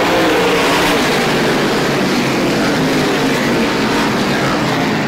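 A pack of SBM 125 race cars roars away at the green flag start at Star Speedway, a loud, dense, sustained engine roar with no break.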